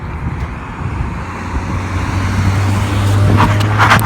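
Cars passing close by on a road, a broad rumbling roar of tyres and engines building steadily louder over a few seconds, with wind buffeting the microphone.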